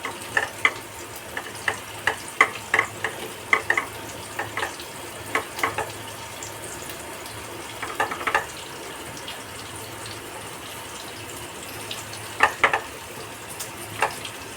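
Prawns being mixed by hand with a little lemon juice, producing soft wet squelching and slapping sounds in irregular bursts, close and fairly quiet.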